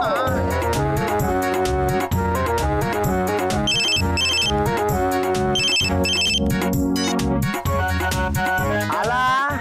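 A phone ringtone plays loudly and continuously, a bright repeating electronic melody with a few brief high chiming bursts, mostly alone.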